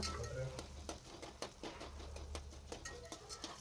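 Capsicum, onion and curry leaves fry in a pan under a faint sizzle, with quick stirring clicks and scrapes and some soft speech mixed in.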